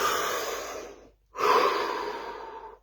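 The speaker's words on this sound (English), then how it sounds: "Deep breath." A slow, deep breath during a guided muscle-release relaxation session, drawn in steadily, a brief pause, then a long audible exhale, close and fairly soft with no talking.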